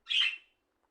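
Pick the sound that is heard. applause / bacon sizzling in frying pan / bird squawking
bird squawking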